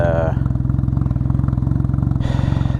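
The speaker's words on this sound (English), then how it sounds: "the very noisy Two Brothers S1R slip-on exhaust" A Can-Am Ryker with a Two Brothers S1R slip-on exhaust and mid-pipe, running iridium plugs and a reflashed ECU, thrums with a deep, steady, rapid pulsing idle, loud and close under a voice.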